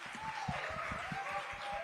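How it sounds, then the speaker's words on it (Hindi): Applause from a studio audience during an interview show with an actress, a steady wash of clapping heard quietly through the whole short stretch. "तो जोरदार तालियां"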